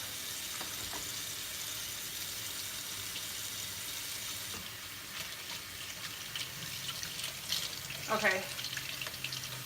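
Ink is scrubbed off hands with soap under a running tap, a steady hiss of water with rubbing and splashing that swells near the end; a voice speaks briefly.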